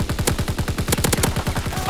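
Rapid automatic gunfire rattles in a video game shooter, a steady, loud stream of shots. A brief voice cuts in at the very end.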